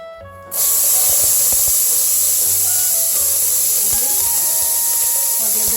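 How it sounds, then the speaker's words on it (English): Onions, celery and carrots hit hot oil in a soup pot with a sudden loud hiss, settling into a steady, close sizzle that runs on to the end, with faint clinks of utensils. "I'm going to throw in some onions and celery and carrots"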